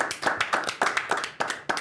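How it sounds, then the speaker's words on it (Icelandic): Quick, close claps in an uneven rhythm, around ten sharp slaps over under two seconds, sounding like a small group applauding rather than a large crowd. "Gefum okkur gott klapp."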